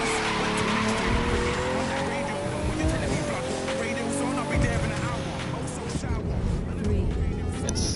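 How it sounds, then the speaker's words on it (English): Car drifting in The Crew 2 near Central Park Reservoir, a continuous engine roar with long wavering tire squeal throughout, loud and close, with voices talking over it. "if you're drifting someplace unique, like Central Park Reservoir"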